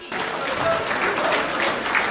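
Dense applause from an audience at a gathering, steady and fairly loud throughout, with a murmur of voices mixed into the clapping.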